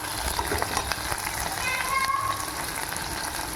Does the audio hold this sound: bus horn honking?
no